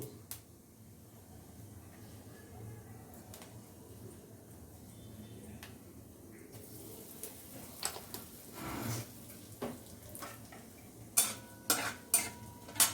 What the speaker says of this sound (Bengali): তেল গরম হয়ে গেছে। আমি তেলের উপরে ফোড়ন দেব, 5 ফোড়ন আর একটু অল্প করে হিং।